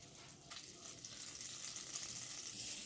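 Butter, three to four spoonfuls, melting in a pan over a gas flame while being stirred, giving a steady soft sizzle and hiss that builds slightly throughout, with no talking.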